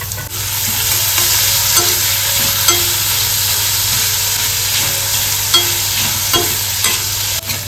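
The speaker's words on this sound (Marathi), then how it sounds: "आपली कांदा टोमॅटोची फोडणी देऊन झालेली आहे" Onion and tomato tempering with ginger-garlic paste and curry leaves fries in a pan, a loud steady sizzle broken by repeated scrapes and clinks of stirring, with no talking.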